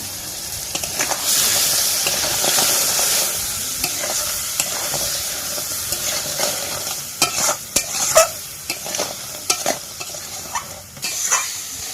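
Crab fries steadily in a pan, a constant sizzling hiss broken by scraping and clinks of a utensil stirring, growing busier toward the end.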